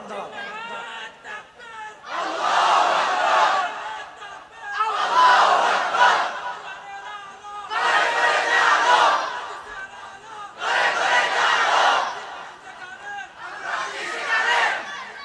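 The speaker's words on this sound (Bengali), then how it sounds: "তাকবীর দেন সবাই আমার সঙ্গে, লিল্লাহি তাকবীর" At a Bengali Islamic sermon gathering, a large crowd loudly chants the slogan "Lillahi Takbir" in five strong surges, each roaring response followed by a brief lull.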